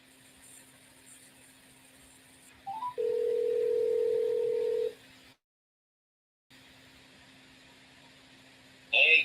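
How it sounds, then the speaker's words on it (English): A telephone call being placed: a short rising chirp, then a steady dial tone held for about two seconds, a pause of silence, and a faint ringback hum under a low line buzz, with no talk. "Hopefully, he picks up the phone."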